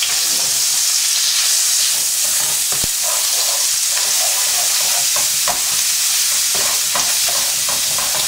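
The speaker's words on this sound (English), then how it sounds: "And we're going to put straight in the onion, the chorizo and the paprika. And we're going to cook that for about 30 seconds." Onion, chorizo and paprika fry loudly in oil in a paella pan, a constant close sizzle and hiss with intermittent scraping and stirring clicks throughout, no voices.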